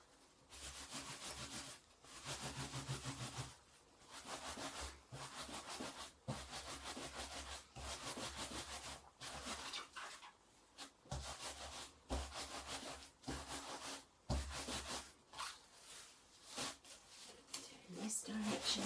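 Hands rubbing a wet merino wool scarf with flower tassels to felt it, a close, repeated rasping friction in long rhythmic bursts with brief pauses, and a voice talking now and then.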